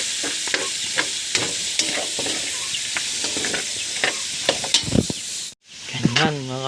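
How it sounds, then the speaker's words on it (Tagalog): Tomatoes sauté in a pan for ginisang upo, a bright continuous sizzle with repeated stirring scrapes and clicks of the spatula, briefly cut off near the end before a voice begins speaking. "Gisa na lang ito hanggang sa mandurog itong kamatis."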